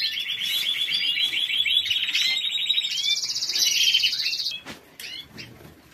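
Several pet birds chirp and tweet rapidly and continuously while being given plant leaves and stems to eat, a bright busy chorus close by that fades out near the end.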